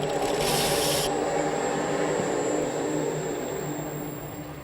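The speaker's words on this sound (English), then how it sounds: "I'm going to start with a skew chisel and make a cut there" Skew chisel cutting a spinning wooden workpiece on a lathe, a steady continuous rasping scrape with a brighter hiss at the start, close and loud, fading slightly toward the end.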